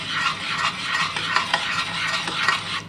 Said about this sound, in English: So I'm just stirring it in.